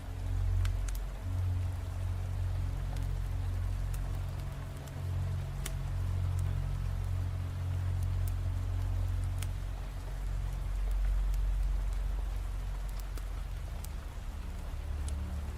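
Steady rain falls without pause, a dense, even hiss and patter that holds at one level throughout, with no voices or other distinct sounds.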